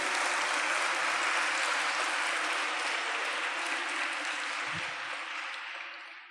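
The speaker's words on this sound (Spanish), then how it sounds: "Dale un aplauso al Señor." A crowd at a religious gathering claps steadily in dense, sustained applause that fades slightly toward the end.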